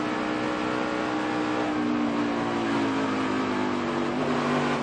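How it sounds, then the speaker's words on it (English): Austin Dillon's NASCAR stock car at a race with a big backstretch crash, its engine throttling up: a steady, loud, dense engine roar whose pitch rises gradually through the clip, with no break or pause. "Right at the last second, you hear Austin Dillon getting the throttle, hoping he could squeeze."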